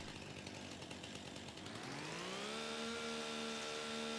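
A chainsaw revs up in Farming Simulator 25, rising from a rough idle into a steady high-pitched whine that holds loud and constant to the end.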